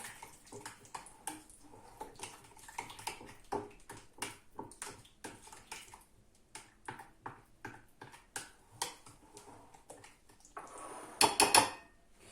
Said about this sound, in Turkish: iki yemek kaşığı irmik, irmiğimizi güzelce karıştırıyoruz.